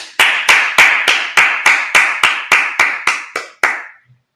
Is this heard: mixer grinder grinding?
no